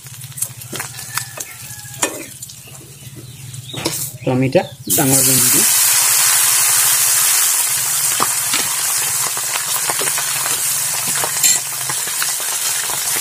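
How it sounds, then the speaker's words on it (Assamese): Marinated fish pieces fry crisp in hot oil in a wok, a loud continuous sizzle that surges as they are turned, with spatula clinks; someone speaks briefly near the start. "সেইটো কাৰণে মই টানকৈ ভাজিম মাছকেইটা ধুনীয়াকৈ সিজি গৈছে আৰু অলপ ক্ৰিস্পি হৈছে"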